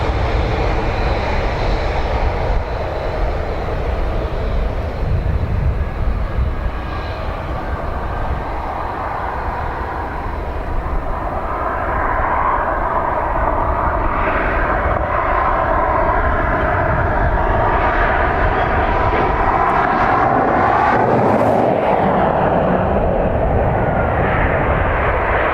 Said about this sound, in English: Aer Lingus from Barcelona.